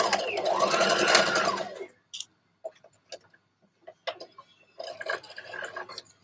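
A sewing machine runs a brief burst of back stitching on a dress, followed by scattered small ticks and handling clicks and another short mechanical run, close and fairly loud.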